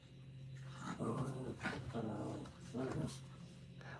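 Rescued dogs at an indoor doggy day care, with low growls and whimpering vocalizations that swell in short bursts over a steady hum, close and fairly soft.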